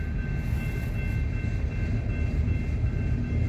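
Grain train rolling past on the rails, a steady close rumble of freight cars with a continuous low roar and faint wheel squeal, no talk.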